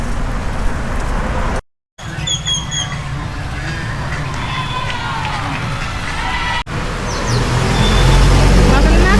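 Cars drive along the Malecón seafront in Mazatlán, their steady traffic rumble passing at moderate distance under street bustle, with a brief cut in the sound early on.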